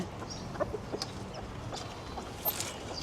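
Chickens cluck softly here and there, a few scattered calls at moderate distance over a quiet, low background.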